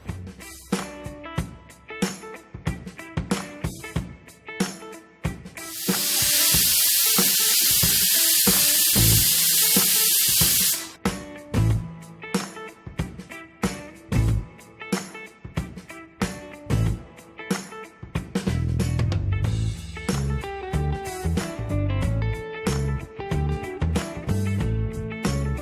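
A pressure cooker holding broccoli soup with vegetable stock lets out a loud, steady hiss of steam for about five seconds, set within rhythmic background music and without speech.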